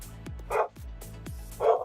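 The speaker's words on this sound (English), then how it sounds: "What is he barking at?" A dog barks from close by in a quick series of yips and short barks, with a higher whimpering bark twice, all within about two seconds and otherwise quiet.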